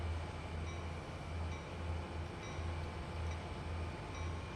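Freight train in Train Sim World, a low idling locomotive drone with rhythmic pulsing rumbles and faint clicks, steady and fairly quiet, heard alone.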